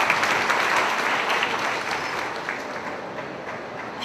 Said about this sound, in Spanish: Un aplauso para esta jovencita.